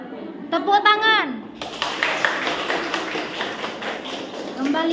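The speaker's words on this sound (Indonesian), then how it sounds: "Tepuk tangan." A classroom of children clapping together follows a teacher's spoken cue, a busy patter of many small hands for a few seconds with voices around it.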